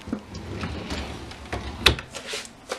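A wardrobe drawer in a child's room slides open with a short scraping rustle, followed by a sharp knock near the middle and a few softer bumps, close by and fairly quiet.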